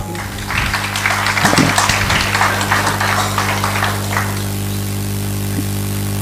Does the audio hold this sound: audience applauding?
yes